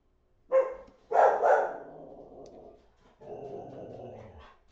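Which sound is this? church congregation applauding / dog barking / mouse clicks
dog barking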